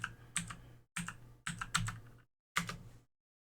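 Computer keyboard typing a command at a command prompt, heard as four short, close bursts of clicking keystrokes separated by brief silences, crisp and alone with no voice.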